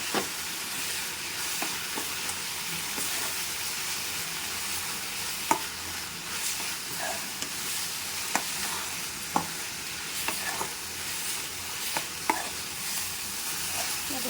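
Fenugreek greens and coconut powder stirred in a hot pan, a continuous low sizzle with repeated scraping strokes and light clicks of the spoon against the pan, close and unbroken by talk.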